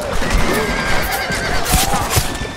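Horse in the Red Dead Redemption video game neighing loudly, a long quavering whinny with hoof clip-clops and game ambience mixed underneath, no voices.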